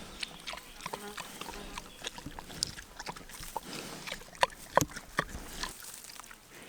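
A homestead pig eats a carrot, giving soft scattered chomping and snuffling sounds with a few sharper crunches, quiet and close against a faint outdoor background.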